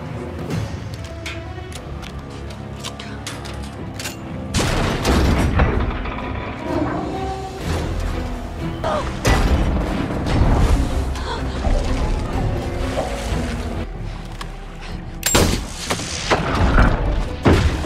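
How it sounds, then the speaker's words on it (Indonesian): Gunfire in a shark thriller movie scene: several loud booming shots and heavy thuds punctuate dramatic music and tense sound effects. "Dengan sangat kesal, Nancy pun menembak si hiu dan tepat sasaran."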